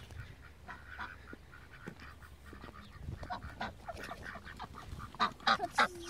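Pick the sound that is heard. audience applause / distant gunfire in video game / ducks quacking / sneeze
ducks quacking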